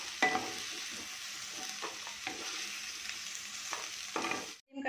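Pointed gourd (parwal) pieces frying in hot oil in a kadhai, a soft continuous sizzle broken by a few brief stirring scrapes, close and fairly quiet, cutting off abruptly at the end.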